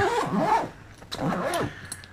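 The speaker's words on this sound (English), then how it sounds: "Just close up the lid." Zippers on the lid of a Think Tank Airport Security V2 camera bag are pulled closed in two quick, close, loud zipping strokes separated by a short pause.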